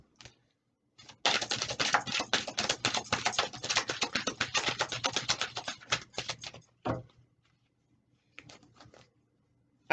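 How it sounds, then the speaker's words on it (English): A deck of tarot cards is shuffled close up in a quiet room, a dense run of crisp riffling patter lasting several seconds, followed by a few isolated soft card taps. "Okay, one more shuffle."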